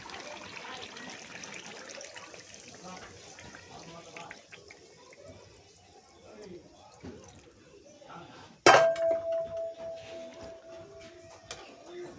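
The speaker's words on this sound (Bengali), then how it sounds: "একদম পুরো পারফেক্ট হয়ে গেছে, এবার আমি ঝোল দিয়ে দেবো" Broth is poured into a pot of cooked meat curry, a sudden splashing pour arriving late after a stretch of quiet talking and kitchen sounds.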